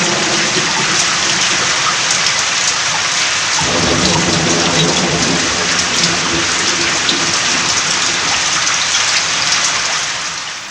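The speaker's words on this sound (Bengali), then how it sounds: "ব্যাস নামলো মুষলধারায় বৃষ্টি" Heavy rain pours down in a loud, continuous roar, with deep thunder rumbling underneath through much of the stretch; no voices.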